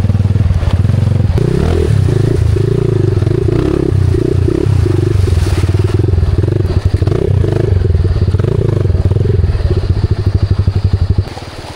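A motorcycle engine runs loud and close throughout, with clattering and scraping as it is pushed along a rough trail.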